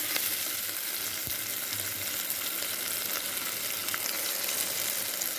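Steady sizzling of greens sauteing in hot oil, close and continuous, with occasional faint scraping of stirring.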